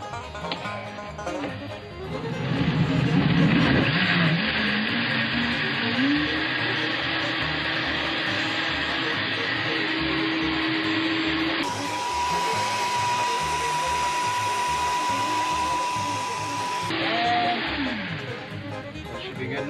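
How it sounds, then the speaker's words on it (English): A Vitamix blender runs continuously for about twenty seconds, a loud close whirring roar whose pitch shifts as the speed changes, with no speech over it. "30 to 45 seconds in the Vitamix"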